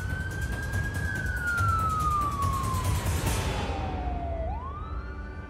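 An ambulance siren wails loudly, its tone gliding slowly downward as the vehicle passes, with road rumble beneath.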